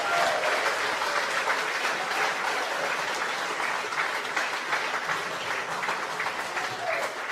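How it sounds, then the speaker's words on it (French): A crowd at a municipal election rally in Dumbéa applauds loudly for the next mayor, continuous dense clapping at full strength throughout with faint voices mixed in. "Je voudrais maintenant qu'on applaudisse très très très fort notre prochain maire, Monsieur Bernard Marant."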